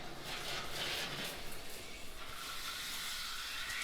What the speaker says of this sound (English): Shower head works.